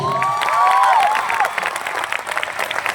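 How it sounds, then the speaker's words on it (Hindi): Audience applause fills an auditorium in Kolkata, a dense wash of clapping with a few cheers and whoops rising over it, steady and loud for the whole stretch. "एक बार ड्रीमलैंड के लिए जबरदस्त तालियां होना चाहिए।"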